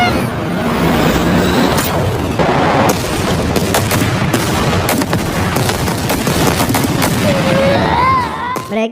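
Explosions and bursts of gunfire from a battle scene in the 2021 film Space Sweepers, loud and dense with repeated sharp cracks over a rumbling background, ending with a brief whistling tone.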